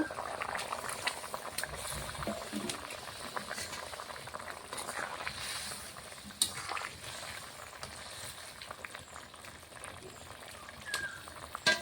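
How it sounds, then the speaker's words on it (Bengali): Fish curry broth bubbling at a rolling boil in a pot, a continuous close, soft bubbling and popping texture heard alone throughout. "ঝোলটা ফুটে উঠেছে"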